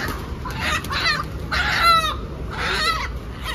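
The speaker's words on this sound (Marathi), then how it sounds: "गावठी कोंबडा काढतोय, दाखव" A desi village rooster clucks and calls in several short bursts, with a brief crowing note near the middle, over a low background hum.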